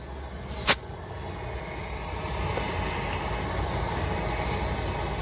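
A boiler burner's blower fan runs with a steady, broad whooshing roar throughout, with one sharp click near the start.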